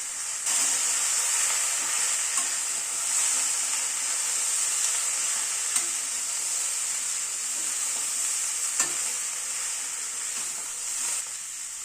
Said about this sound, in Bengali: পেঁয়াজ কলিটাকে আরেকটু নাড়াচাড়া করে নেব